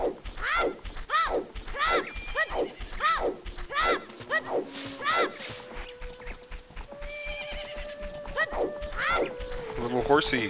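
A horse in the video game Zelda: Ocarina of Time whinnies in a rapid string of about half a dozen loud neighs, accompanied by clip-clop hoofbeats, followed by sustained game tones and a final whinny.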